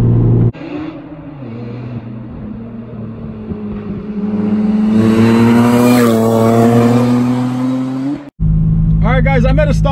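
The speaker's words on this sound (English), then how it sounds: "I'm just gonna really quickly rev it up so you guys can hear that whine." Supercharged single-overhead-cam VTEC Honda V6 with an M90 blower in a Toyota MR2, idling steadily at a stop and then revving up loud and close, its rising tone carrying a whining edge before cutting back sharply.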